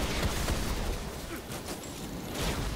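Enemy gunfire in Destiny during a strike on Mars, a muffled sustained volley of shots under dense game noise, moderately faint with no clear speech.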